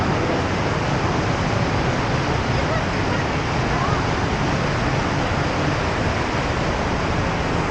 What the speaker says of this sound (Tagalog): kung maririnig nyo yung alon ng tubig